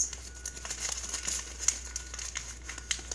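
A plastic blind bag holding a My Little Pony toy is opened, giving soft crinkling and rustling with a few sharper tearing snaps, close and fairly quiet, with no talking.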